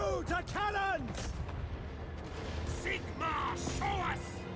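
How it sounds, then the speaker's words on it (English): Cannon fire in the fantasy battle video game Total War: Warhammer 3 rumbles with booms beneath shouted, whistling battle sounds and voice lines, mixed with distant gunfire. "Cannons! Fire! All ranks, fire!"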